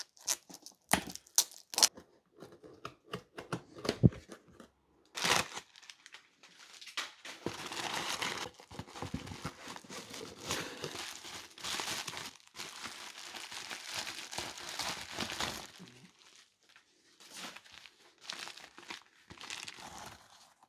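A large parcel holding a Sound Blaster AWE64 computer sound card is opened, with close crinkling, tearing and crunching of packaging in bursts, then longer rustling stretches, all without speech.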